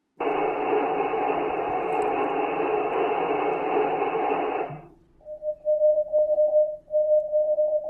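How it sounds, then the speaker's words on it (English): A steady broadband radio hiss from a wideband broadcast fills the first few seconds, then cuts to a clear, fairly loud tone beeping on and off in Morse code bursts with no talk over it. "Look, that's Morse code."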